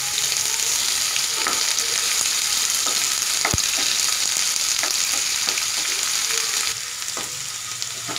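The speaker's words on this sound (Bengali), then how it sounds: "আমি 2 মিনিট মতো আলু গাজরগুলো ভালো করে ভেজে নিয়েছি।" Potato and carrot pieces frying in oil in a pan, a steady continuous sizzle with scattered clicks of stirring, close and even throughout.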